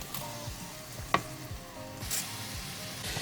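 Small shrimp fry with onions in a pan, making a steady moderate sizzle with a sharp clack partway through and faint scraping stirs. No one speaks.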